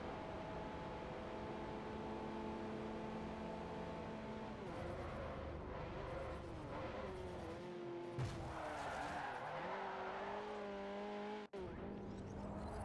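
Race cars in the Forza Motorsport 4 video game, a Mitsubishi Colt among them, with steady droning engines that rise and shift in pitch as gears change, plus tire squeal and brief scraping contact.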